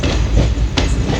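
Steady rumble and rattle inside a moving passenger train, with low wheel noise throughout and a sharp clack of the rails near the end, no voices.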